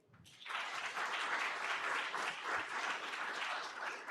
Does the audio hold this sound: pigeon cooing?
no